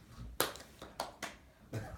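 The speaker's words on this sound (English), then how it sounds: "Round of applause." A few sparse hand claps, about five separate sharp claps spaced irregularly over two seconds, fairly quiet and close, as from one or two people giving a small round of applause.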